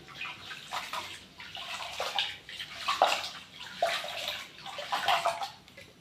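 Pot being scrubbed and rinsed with water in a home kitchen, steady splashing and sloshing with bursts of scraping, close and moderately loud, no talk.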